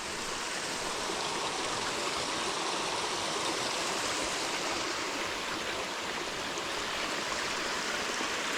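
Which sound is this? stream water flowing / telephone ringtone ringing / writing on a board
stream water flowing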